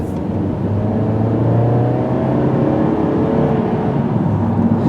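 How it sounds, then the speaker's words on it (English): A 2016 Hyundai Elantra's engine runs in sport mode and holds at higher RPM. Its steady, loud hum and whir continues without a break from the cabin, and no one speaks over it. "It's running up to a higher RPM, and it's kind of holding at a higher RPM."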